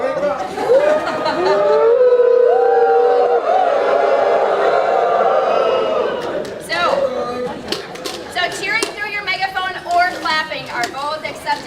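A room of volunteers at a recognition breakfast yelling and cheering through popcorn-style megaphones, a loud sustained crowd roar that breaks into scattered chatter and laughter.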